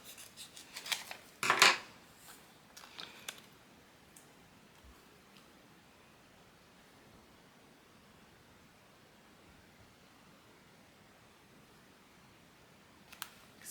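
Scissors trim excess liner material on a hand towel in a couple of quick, close snips near the start, followed by near silence and a faint click at the end.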